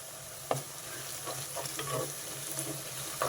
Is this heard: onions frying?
yes